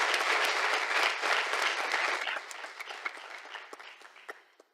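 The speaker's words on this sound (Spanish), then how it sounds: "pido un aplauso para ellos" An audience at a university closing ceremony applauds senior students, starting as a dense, loud wash of clapping that thins out into scattered individual claps before fading away.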